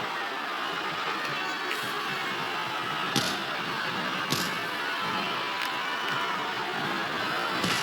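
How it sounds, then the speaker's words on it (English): A wrestling arena crowd roars in a continuous, dense wash of cheering and shouting, with a few sharper bursts rising out of the steady din. "I cannot remember the last time I've seen a crowd this pumped up."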